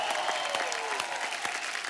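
A TV comedy show studio audience applauds steadily and loudly, with continuous clapping filling the whole moment.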